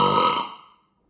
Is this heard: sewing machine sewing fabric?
no